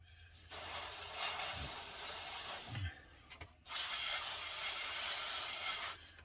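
Two long hissing bursts of aerosol spray paint into a model airplane's engine nacelle, with a short pause between them, close and steady, with faint clicks in the gap.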